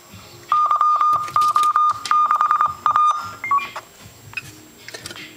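A homebrew lightning detector's alarm gives a series of short, sharp electronic beeps in irregular bursts, loud and close, with faint background noise and handling sounds between them.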